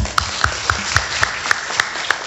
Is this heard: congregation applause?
yes